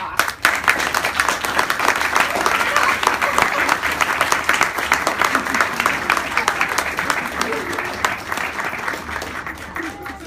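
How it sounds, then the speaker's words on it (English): Steady, loud audience applause at a book signing as a guest is called up, many people clapping together for about ten seconds before it softens slightly near the end. "I want everyone to give her a round of applause"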